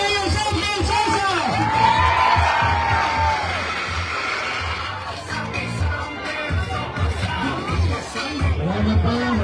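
A crowd at a Sunday community gathering in Tondo cheers and shouts for a mayor, forming a dense, continuous mix of voices, whoops and babble at close range.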